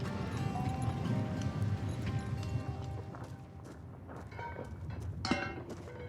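Pack horses carrying heavy loads walk along a mountain trail, their hooves clip-clopping in an irregular steady patter amid outdoor ambience, moderately close, with no one speaking.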